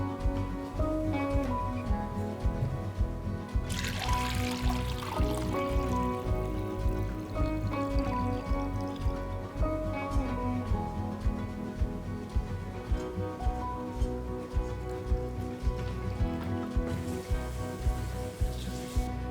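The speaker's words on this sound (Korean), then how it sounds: "고기 건더기 건지시고 국물은 젖은 면보자기에다 받치세요" Beef broth from lean shank is strained through a wet cheesecloth for a Korean eobok jaengban dish, a steady trickling, splashing pour running throughout with no talk.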